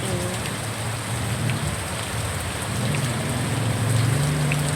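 Heavy rain pours steadily on an afternoon, a dense constant hiss of drops on surfaces, loud and close, with a faint low hum beneath and no one talking.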